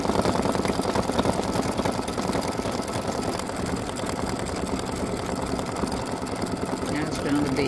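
A home embroidery machine stitches a flamingo-in-sunglasses design with flowers on its head, giving off a steady, continuous mechanical whir and rapid needle chatter that runs throughout, with a voice talking intermittently over it.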